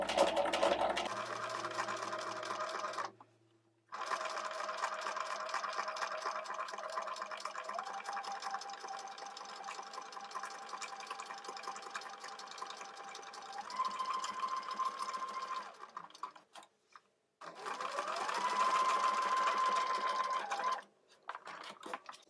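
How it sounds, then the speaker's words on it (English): A sewing machine top-stitches close to the edge around a tiny doll-clothes collar, running in steady bursts with a few brief pauses and stops, close and clear with no talk. "how close that can stitch to the edge"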